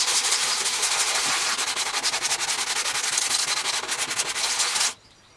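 Coarse 80 grit sandpaper rubbing a hard old oil stone: a rapid, continuous rasping of back-and-forth strokes, loud and close, stopping abruptly near the end.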